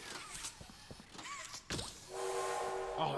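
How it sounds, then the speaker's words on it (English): In the horror video game Poppy Playtime Chapter 2, assorted clanks and game noises give way to a train horn that starts about two-thirds of the way in. It holds as a steady, rising tone to the end, with no voices. "Oh, it's a train horn!"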